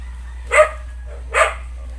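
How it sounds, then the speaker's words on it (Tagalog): Pet dogs at a rural Filipino home give two separate sharp barks about a second apart, fairly close and loud against a quiet background. "Ang mga alagang aso dito"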